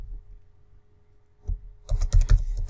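Keys clatter on a computer keyboard, a quiet tap early on and then a quick burst of several close, crisp keystrokes in rapid succession.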